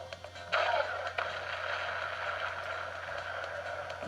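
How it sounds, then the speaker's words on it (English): Smart bomb effect from the audio game Troopanum 2: a quiet click and a brief rising chirp, followed by a sustained, faint, hissing electronic whoosh that holds steady to the end. "This is the sound of the Smart bomb."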